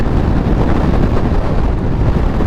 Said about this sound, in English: This is so windy.